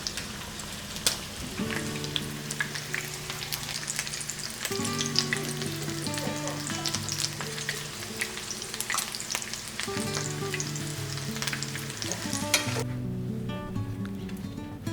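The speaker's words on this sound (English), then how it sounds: "Add your tacos in and fry both sides until they are light brown and crispy." Tacos frying in vegetable oil in a pan, a dense continuous sizzle and crackle with steady spitting pops throughout, close and fairly loud, with faint tonal music underneath and no speech.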